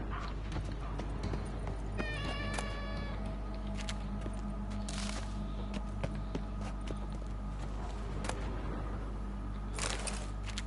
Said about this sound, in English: You're possibly hearing the cat in the background.